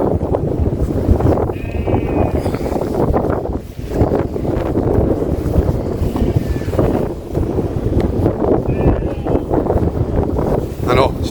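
Strong wind buffets the microphone on an exposed beach on the Isle of Mull, a continuous loud roar with gusting swells and rustling throughout, and a voice is faintly present beneath it.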